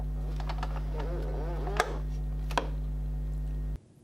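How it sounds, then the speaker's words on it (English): A hose reel locking pin clicks as the drum is spun during reassembly: two sharp, separate clicks over a steady mechanical hum, with some lighter rattling before them. "Listen for the click of the locking pin as it spins."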